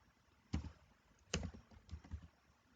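A few sparse keystrokes on a computer keyboard, quiet and close, two sharper taps followed by a short cluster of softer ones.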